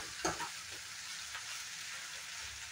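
Cabbage and potato curry fries in a wok with a soft, steady sizzle, quiet and close, broken by a few light stirring scrapes near the start.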